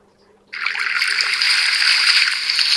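A watering can pours over flower seeds in the game Avatar World, a steady bright trickle of water that starts suddenly after a short silence and runs on evenly and loud.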